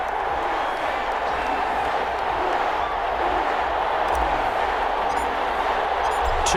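A dense, steady roar of a stadium crowd fills the space in Madden NFL 21 before a Houston Texans versus New Orleans Saints game, loud and constant with a broad wash of cheering and no distinct breaks.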